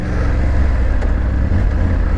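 A Triumph Tiger 900 GT Pro three-cylinder motorcycle, restricted to 35 kW, pulls hard with a close, loud engine drone, its quickshifter letting gears change without a break in the pull.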